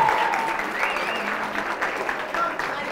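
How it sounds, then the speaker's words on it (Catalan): Contestants on a Catalan TV spelling quiz show applaud together, a steady even wash of clapping that continues for the full three seconds at moderate level, with a faint voice briefly audible over it. "i a més tens uns companys que et faran un aplaudiment"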